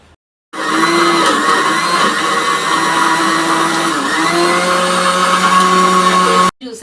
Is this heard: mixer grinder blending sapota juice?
yes